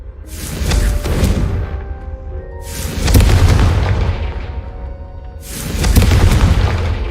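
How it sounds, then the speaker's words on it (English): Confringo spell blasts in the Hogwarts Legacy video game: three loud, deep booms, about three seconds apart, each with a rushing whoosh that swells and slowly fades. "I think you'll find that a Confringo cast travels a bit farther than that of a spell like Incendio."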